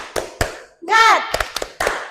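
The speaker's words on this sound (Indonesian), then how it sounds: "Tepuk semangat" A class of schoolchildren does a rhythmic spirit clap: quick sharp claps come in short groups, broken by a loud, tonal group shout in the middle, all close and energetic.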